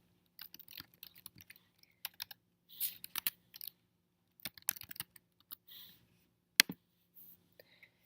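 Someone types login details on a computer keyboard, producing short scattered bursts of crisp key clicks with brief pauses, quiet and close, with no voices.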